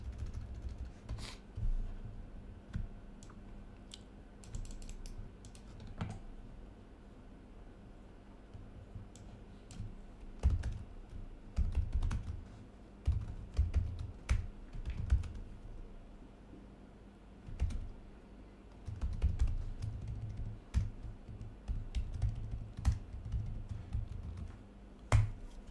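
Computer keyboard typing in scattered bursts of clicky keystrokes, close and fairly quiet, with pauses between runs, while notes are entered during a live forex trading session; no talking.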